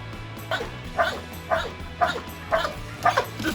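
A rescue dog in training in Odesa gives a steady run of short yelping barks, about two per second, close by, over a faint low hum.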